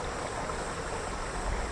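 A clear, cold creek that flows year-round beside a country house in Yangpyeong, South Korea, rushes steadily and close by as a continuous broadband wash of water.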